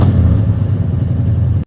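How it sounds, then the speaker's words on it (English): A 1968 Oldsmobile Ninety Eight's big block V8 rumbles loudly and steadily through a cherry bomb muffler, a deep throbbing burble that cuts off abruptly. "Adding to that wonderful big block V8 sound is the exhaust routing through a cherry bomb muffler."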